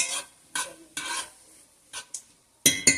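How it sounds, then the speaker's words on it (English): Onions sautéing in a pan for cheeseburger meatloaf, heard as several separate bursts of stirring and scraping with a faint sizzle between them, close and fairly loud, with no talking. "Just saute these for about 2 or 3 minutes."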